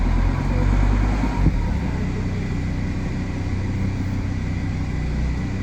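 A Jeep Grand Cherokee WJ engine runs steadily on its first test after a gearbox repair, a close, continuous low rumble with one brief knock near the start and no talking.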